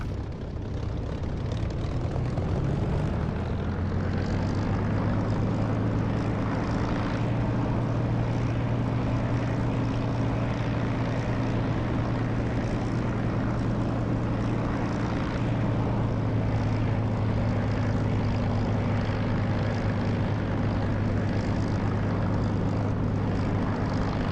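Fixed-wing aircraft taxiing in the DCS flight simulator, a steady loud engine drone with a sustained low hum throughout, no voices.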